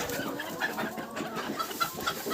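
Bantam chickens clucking and chattering while being offered mash feed, several birds close by with scattered soft clucks and short calls over a steady background murmur.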